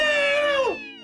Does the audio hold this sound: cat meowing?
yes